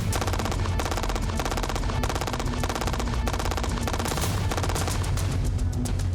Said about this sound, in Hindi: FN-P90 सब मशीन गन इसलिए विध्वंसक है क्योंकि ये महज 1 मिनट के भीतर ही 900 से ज्यादा गोलियां दाग सकती है